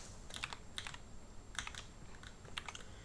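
Computer keyboard keys clack in quick little clusters of presses, spaced about a second apart, close and fairly quiet over a faint steady hum.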